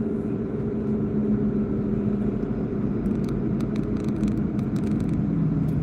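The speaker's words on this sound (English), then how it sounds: "Driving in our rich man's car." A rich man's car on the move gives a steady, close, loud engine and road rumble with no break, with light rattles and clicks over the top.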